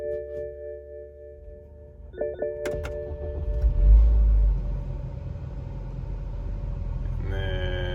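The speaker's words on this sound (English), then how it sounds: "to start the car" A BMW E84's engine cranks and catches with a deep rumbling surge, then settles into a steady idle hum, following a few clicks from the car's interior.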